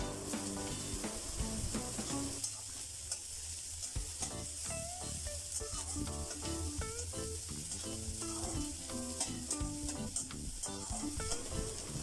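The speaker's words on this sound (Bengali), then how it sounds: "তেলটা গরম হয়ে গিয়েছে, আমি এখন একটা দিয়ে দিচ্ছি পেঁয়াজ কুচি, এবার দিয়ে দিচ্ছি কাঁচামরিচ" Chopped onion and green chilies fry in hot oil for a snakehead fish bhuna, giving a continuous soft sizzle beneath steady background music throughout.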